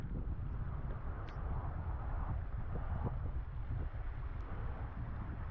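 Wind blows steadily through a Scottish Highland valley on the West Highland Way, a continuous low rumbling roar buffeting the microphone with no let-up and no voices.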